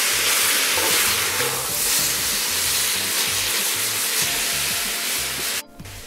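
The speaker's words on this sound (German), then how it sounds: "Jetzt geben wir hier das andere Fleisch auch wieder dazu und lassen alles zusammen nochmal ein bisschen anbraten." Meat and vegetables sizzle steadily in a hot Dutch oven while being stirred, with a loud, constant frying hiss and scraping stir sounds throughout, and a brief drop near the end.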